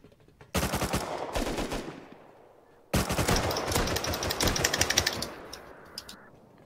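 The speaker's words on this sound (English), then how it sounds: "Shot a couple extra times. Hit him once." Two long bursts of rapid automatic gunfire in the survival game Rust on an oil rig, loud and close, the second burst longer and trailing off into scattered shots.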